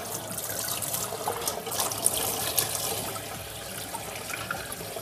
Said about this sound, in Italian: Ora li passiamo sotto l'acqua fredda ed eliminiamo tutti i residui di terra